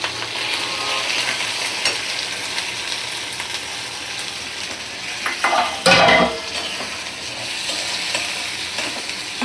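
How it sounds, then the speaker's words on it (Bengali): An egg sizzling in a pan with potato, onion and tomato, a continuous close fry with a louder burst of spatter and scraping about two-thirds through, no speech. "এবার দেখো একটা ডিম দিয়ে দিচ্ছি আমি"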